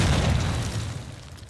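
A low booming grenade blast in Call of Duty 2, loud and close, with a dense rumbling body that slowly fades over a second and a half.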